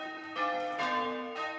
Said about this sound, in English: You ring the bells at Lammas, the loaf mass, which is the 1st of August, to announce the beginning of the harvest